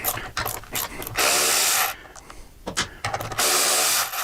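A hand ratchet loosens half-inch bolts while an air cleaner is being installed, giving close, bursty rattling clicks in several separate runs with brief pauses between them.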